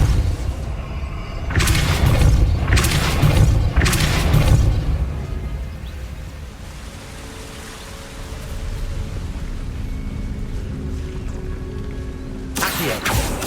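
Depulso spell cast in the video game Hogwarts Legacy: several heavy whooshing blasts in quick succession, then a quieter rumbling stretch and one final burst near the end, loud and close.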